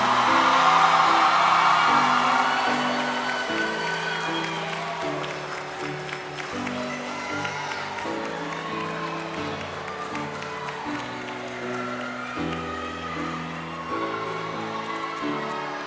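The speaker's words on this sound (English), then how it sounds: "Let's give them a round of applause." An audience applauds at a high school commencement with a steady wash of clapping that swells at first and then continues evenly, with organ-like music playing underneath.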